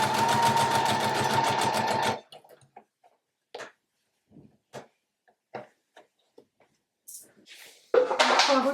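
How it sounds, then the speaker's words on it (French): A domestic sewing machine stitches a sleeve onto a baby romper for a little more than two seconds, a steady rapid mechanical whir. Quiet handling clicks, rustles and fabric sounds follow, then a brief burst of stitching at the end. "Et là, je vais coudre ici."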